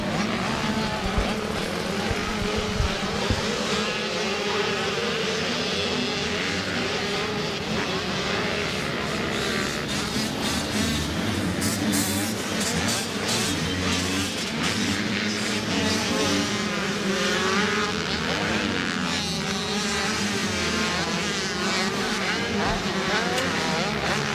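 Race vehicles driven by 12- to 13-year-olds roar through the first turn of a high desert race, with loud overlapping engine noise and passes that continue steadily from start to finish.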